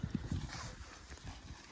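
Buffaloes walk on a dairy farm, their hooves making a few soft, irregular thuds at a distance, faint against the background.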